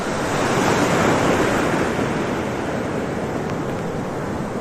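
Steady ocean surf rolling off the coast of Goa, a continuous broadband wash of waves with some wind noise, loud and close with no voices.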